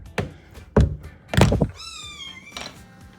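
A hungry kitten on a doorstep lets out a short, rising meow amid several dull thumps and knocks nearby, all close and fairly loud, with no speech.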